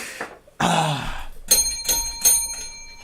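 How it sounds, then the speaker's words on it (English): A failure bell rings three times in quick succession, each bright metallic strike ringing out with a short decay, after a brief louder rustle in an indoor workshop. "3 rings on the failure bell."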